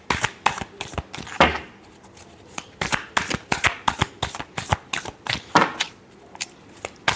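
Tarot cards being shuffled close up, a rapid run of crisp riffling bursts and slaps repeating irregularly for several seconds with no talk over them.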